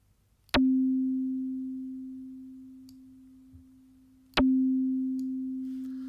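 Two synthesized FM tubular bell tones on a DX7-style synth, each starting with a sharp click and then holding a steady, pure-sounding pitch that slowly fades. The second note begins about four seconds later.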